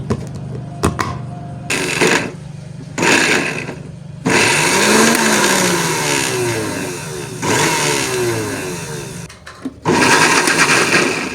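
Electric blender whirring in repeated pulses as it blends a homemade skin care paste of ingredients with a little water for dry winter skin, loud bursts with short pauses between them.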